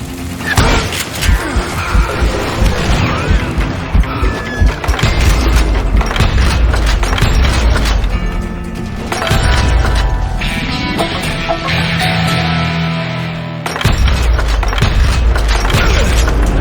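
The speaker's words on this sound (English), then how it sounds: "I saw Henry Plummer throw dynamite at me." Dynamite explosions and gunfire in the western shooter Call of Juarez Gunslinger, repeated loud booms and crashes amid rapid shots, close and intense, with a short calmer stretch before the blasts resume.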